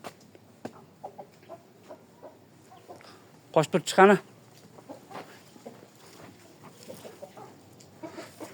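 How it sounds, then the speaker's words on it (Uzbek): Chickens let out into a home yard cluck sporadically close by, with a brief louder flurry of squawks midway, while a person speaks briefly. "Mana bu yerda tovuq bor. Tovuqlar bor."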